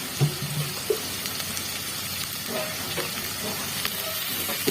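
Peeled garlic frying with already-browned onions in a pan gives a steady, close hiss and sizzle, with a few soft clinks and stirring sounds near the start and no talking.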